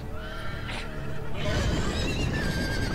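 Horses whinny loudly and close in a Game of Thrones video game, with a couple of shrill neighs layered over a noisy, rumbling background of hooves and commotion.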